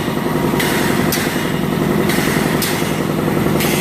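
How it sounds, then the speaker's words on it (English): An air compressor in a facility runs loud and steady while feeding a high-pressure booster system, its constant droning rumble broken by regular bursts of hissing roughly every second and a half. "I'm going to kick this air compressor on here"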